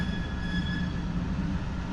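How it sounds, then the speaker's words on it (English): A freight train rumbles past nearby in a steady, loud roar of rolling wheels, with faint high metallic squeals riding over the noise. "trapped by two trains, one behind us and one in front of us."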